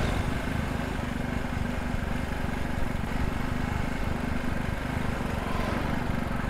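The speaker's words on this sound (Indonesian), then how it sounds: "Wow, ini anginnya kenceng banget, pastilah di motor ya kan." Strong wind buffets a DJI Pocket 2 camera's built-in mic while riding a motorcycle, a steady, loud, low-heavy roar that runs unbroken throughout with no talking.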